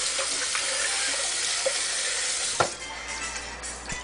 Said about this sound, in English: You put some water in there,